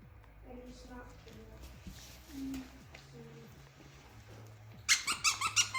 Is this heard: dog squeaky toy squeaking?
yes